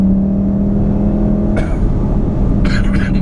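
A 2015 VW Golf R engine drones steadily from inside the cabin, a loud low induction hum with a constant tone, as two short voice bursts cut in over it.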